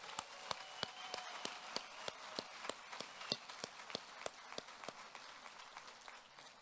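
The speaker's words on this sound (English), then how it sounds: "Let's give them a big round of applause." Audience applause at a 2021 graduation ceremony for Springfield's John J. Duggan Academy, heard as faint, steady clapping with regularly spaced sharp claps over a soft wash of distant hands, lasting throughout.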